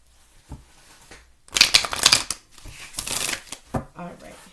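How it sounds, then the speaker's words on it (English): Tarot cards being shuffled in bursts of crisp riffling and flapping, close and fairly loud, with quieter handling noises between the bursts. "Alright, so let's go ahead and shuffle."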